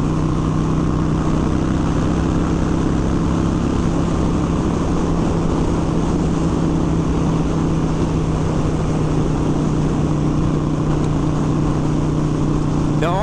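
Harley-Davidson Sportster 1200 (XL1200C) engine droning steadily at highway speed, around 75 mph with fairly high revs, a continuous loud hum with wind roar and no letup throughout.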